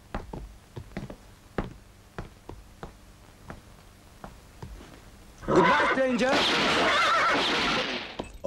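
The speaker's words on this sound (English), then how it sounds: "Get on the horse." After a run of sharp knocks and clip-clopping hoof taps, a horse lets out a loud, close, drawn-out whinny lasting about three seconds.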